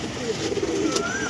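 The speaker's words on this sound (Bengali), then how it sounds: "দেখো এই হচ্ছে পায়রা" A pair of Fulchira pigeons coos softly up close, a low burbling call running through the whole short moment against steady background noise.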